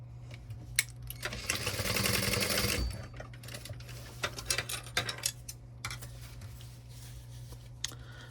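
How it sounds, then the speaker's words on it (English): A sewing machine stitches two fabric pieces together on a 1/8 inch seam for a custom bag, one steady close run of about a second and a half, followed by light handling clicks and taps. "we're just sewing those on at 1/8 of an inch"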